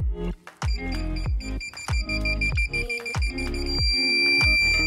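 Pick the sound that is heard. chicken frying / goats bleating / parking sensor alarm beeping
parking sensor alarm beeping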